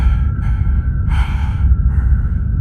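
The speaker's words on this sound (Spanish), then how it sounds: "Una inhalación larga y gruesa que salía de la coladera del piso." A long, heavy, held inhalation rises from a floor drain as an eerie sound effect, with loud, close breathy swells and pauses and no speech over it.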